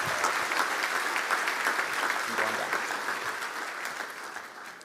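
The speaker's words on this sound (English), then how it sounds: "Let's give Victor a round of applause" Banquet audience applauding steadily for Victor at a Friend For Life awards banquet, a dense sustained wash of many hands clapping that stays loud and slowly eases toward the end.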